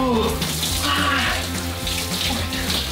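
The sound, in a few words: cold shower running water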